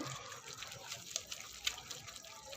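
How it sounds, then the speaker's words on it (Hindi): Quiet trickling water poured in a thin stream into gram flour batter, a soft steady splash with small wet spatters, no voices. "हल्का हल्का पानी ऐड करेंगे और इसको अच्छी तरह से मिक्स कर लेंगे।"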